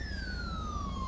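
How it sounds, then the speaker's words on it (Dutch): Police car siren from the GTA 5 LSPDFR mod, modified in-game siren sound, a steady wailing tone slowly falling in pitch over a low rumbling engine bed, heard alone with no talk. "Daarbij zijn de sirenes wel aangepast."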